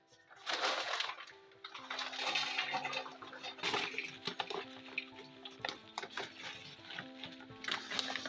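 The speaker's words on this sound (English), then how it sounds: "one tip that seems to be spreaded across YouTube is actually to wet your soil before you pack it" Water splashes and trickles onto all-purpose potting soil being wetted for tomato seed starting on a Portuguese homestead, a quiet, uneven pour in several surges with faint tonal sounds in the background.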